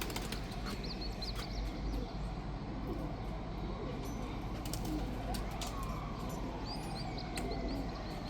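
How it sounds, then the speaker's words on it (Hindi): A large breeder pigeon coos softly in a loft, low repeated throaty calls over a steady background hum, with faint chirps from other birds. "ये बड़ा मेन कबूतर है"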